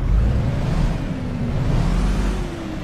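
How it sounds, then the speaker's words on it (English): A Kenworth W900 truck with a Paccar engine in American Truck Simulator produces a steady, heavy low-pitched diesel drone that holds at a constant level for a few seconds, with no talking. "That sounds like a Packer engine to me."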